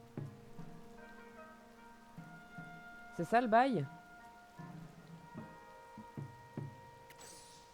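Rain falls in Zelda: Tears of the Kingdom, a soft steady patter under game music and sound effects, while someone talks briefly over it.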